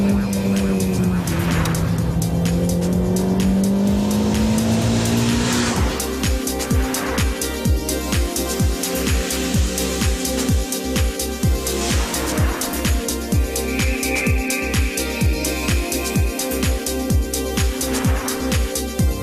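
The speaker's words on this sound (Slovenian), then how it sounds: "Motor se zelo rad zavrti preko 7000 vrtljajev in tudi prav prijeten dirkaški zvok" A 2010 Renault Clio RS engine revs hard while driving, climbing toward 7000 rpm with a raspy racing note, a strong continuous drone that rises and falls through gear changes with some tire noise.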